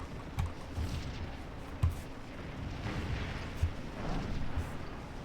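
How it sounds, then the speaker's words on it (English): Cannon fire in the Civil War battle game Scourge of War: Antietam, heard as several moderate booms spaced irregularly over a steady low rumble of battlefield ambience, with no talk. "Got some cannon fire going off."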